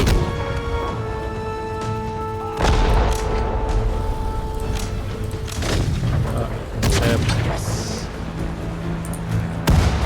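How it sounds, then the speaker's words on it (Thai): Sustained gunfire and heavy booms from a World War II battle in the strategy game Sudden Strike 4, Allied campaign with Churchill tanks, rattle on without pause over a steady tonal backdrop, with louder blasts breaking through now and then. "ยิงกันไม่หยุดเลย"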